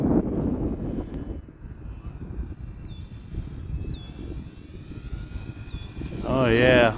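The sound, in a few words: E-flite T-28 RC airplane flying after takeoff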